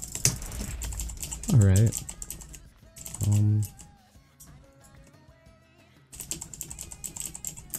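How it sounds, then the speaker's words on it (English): Keys clatter on a computer keyboard in rapid, busy bursts of typing, close and fairly loud. The typing stops for a stretch and then resumes, with a short spoken word and two brief honk-like sounds in between. "So what I wanted to talk about in this video was my keyboard."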